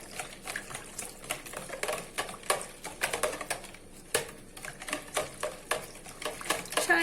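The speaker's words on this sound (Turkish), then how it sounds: "Güzelce karıştırıyoruz tüm malzemelerimizi." Flour, salt and warm water being stirred together into pişi dough in a bowl, a close, steady run of soft scraping and wet clicking strokes with a quick repeating rhythm.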